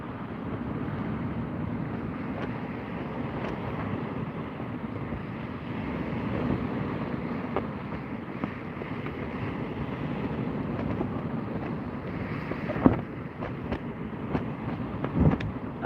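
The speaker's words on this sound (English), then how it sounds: "I've got like 30 mile an hour wind now, it's built a bit." Strong wind of about 30 mph buffets a kayak out fishing, a steady broadband roar of gusts across the microphone running throughout, with a few sharper knocks and bumps near the end.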